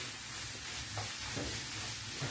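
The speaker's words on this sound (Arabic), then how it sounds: "نخلطو مزيان" Vegetable filling sizzling in a pan as it is stirred, a steady close hiss of frying with faint soft scrapes of the spoon, no talk.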